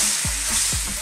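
A spoon scrapes twice through fish curry simmering with coconut milk in a pan, two quick strokes over a steady bubbling sizzle in a short, close burst.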